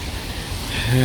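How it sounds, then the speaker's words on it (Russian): Steady winter rain falling during a mild, wet spell in Mar del Plata, a soft continuous hiss with a brief rise in level near the end. "Зима. Не очень холодно, но дождь мокрый. Идет уже вторые сутки."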